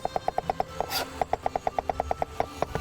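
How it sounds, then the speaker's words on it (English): A knife finely chopping ginger on a board, a quick even run of sharp close taps with one short pause, no voices. "take your knife and start finely chopping it"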